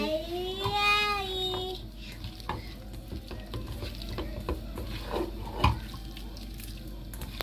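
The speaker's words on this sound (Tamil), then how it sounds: "எல்லாத்தையும் நல்லா மிக்ஸ் பண்ணிட்டு இது கையால் செய்தாக்கா எல்லா இடம் நல்லா செய்யும்." Raw chicken for a Sri Lankan chicken devil being mixed by hand with sauce and spices gives close, wet squelching and slapping in an irregular rhythm, after a brief high tonal sound at the start.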